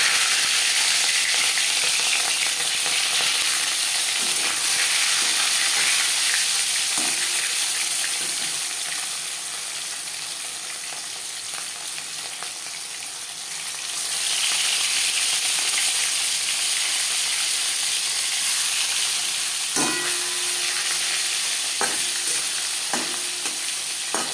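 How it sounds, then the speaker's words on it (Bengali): Loud, steady sizzling of marinated rohu fish frying in hot refined oil fills the whole stretch, easing briefly midway, with occasional clinks of a utensil. "5 চামচ রিফাইন্ড অয়েল গরম করে নিয়েছি। এবার দিয়ে দেব ম্যারিনেট করে রাখা মাছ।"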